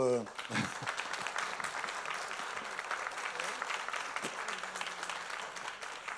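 Audience applause at a French conference on sustainable food systems, a steady wash of clapping from a seated crowd holding at an even level for several seconds.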